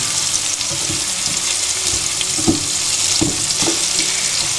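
Garlic and broad beans sauté in a pan for a Maltese bean appetizer, making a steady soft sizzle with occasional scraping stirs and small knocks, close and continuous with no talk.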